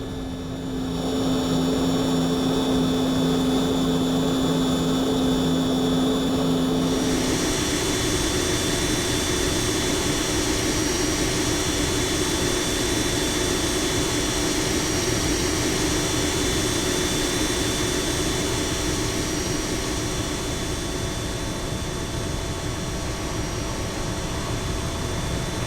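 Jet engines drone steadily and loudly in cruise in the X-Plane 10 flight simulator, a continuous dense roar with a thin whine on top, with no other sounds and no voices.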